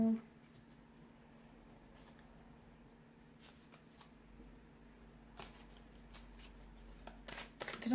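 Tarot cards shuffled and drawn from a deck during a love reading, heard as soft, intermittent papery flicks and riffles over a steady low hum, with a louder burst of shuffling near the end.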